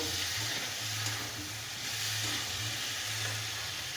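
Squash curry sautéing in a pan, with a steady, even sizzling hiss that continues throughout and a faint low hum underneath.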